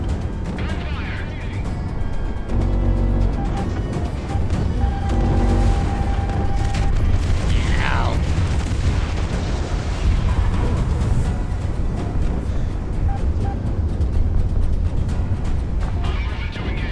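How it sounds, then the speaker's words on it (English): Gunfire and explosions from a naval air battle in the Project Wingman flight combat game, a dense, loud rumble of booms, bursts and crashes under steady engine roar, with voices talking over the action. "Gunfire!"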